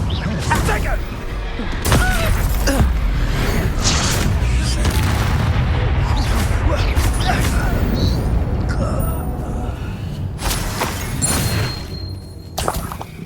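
Incendio fire spells cast in Hogwarts Legacy go off as a series of loud, booming bursts and crackling blasts, with a voice shouting over them.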